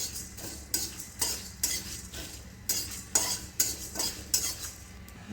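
Ginger, garlic, dried chillies, onion and coriander frying in a hot wok, with a metal spatula scraping and stirring in steady repeated strokes over a soft sizzle, close and clear with no talking.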